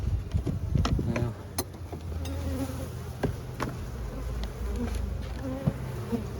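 Honey bees at a recently moved, depopulated hive give off a steady close buzzing drone, with individual bees flying past the microphone now and then.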